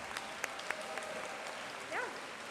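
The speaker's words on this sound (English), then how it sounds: "Let's give a round of applause for our finalists." Applause from a high school homecoming assembly crowd, greeting the finalists: a faint, steady wash of clapping with a couple of sharper claps and a brief whistle-like tone near the end.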